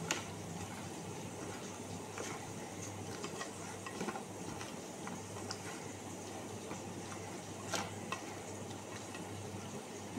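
Hands kneading rohu fish pieces with spices in a bowl, a soft steady wet squelching and rubbing at low volume with faint occasional clicks, no talking.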